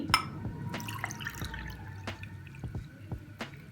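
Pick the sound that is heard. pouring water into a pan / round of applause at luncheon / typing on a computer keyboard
pouring water into a pan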